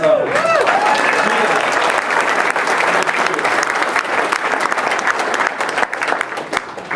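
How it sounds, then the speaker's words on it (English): A dinner audience bursts into sustained, loud applause that fills the room for several seconds, with a few voices and whoops rising through the dense clapping. "Can we get a round of applause for whoever cooked all that food?"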